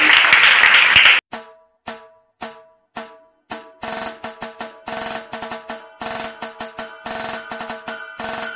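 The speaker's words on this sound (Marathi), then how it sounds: "एकदा जोरदार टाळ्या सगळ्यांसाठी।" An audience at a village Zilla Parishad school Ambedkar Jayanti programme claps, starting with a dense burst of applause, then a run of sparse single claps and shorter scattered bursts.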